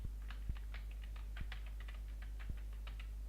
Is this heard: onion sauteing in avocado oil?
no